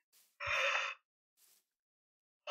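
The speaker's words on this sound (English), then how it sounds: "Sorry about the yawn." A person yawning once, a drawn-out breathy exhale lasting about half a second, close and quiet, with soft breaths around it.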